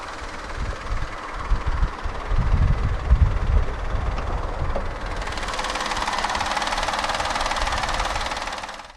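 A 2015 Peugeot 208 1.2 PureTech 82 with a naturally aspirated, multi-point injected inline-3 petrol engine turns over with a low rumble, then catches and settles into a steady, fairly loud idle hum. No one speaks.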